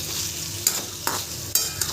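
Onions and cumin sizzling in hot oil with salt, a steady hiss broken by three or four sharp spatula scrapes against the pan, close and without talk.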